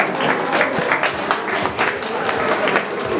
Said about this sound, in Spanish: Pero fuerte ese aplauso, que se escuche.